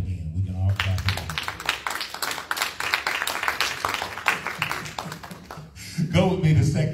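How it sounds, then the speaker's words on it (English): A church congregation at a worship service claps together in a steady, rhythmic beat over voices and music, loud and close, then the clapping eases off as a voice continues near the end. "All right, so we can all clap again."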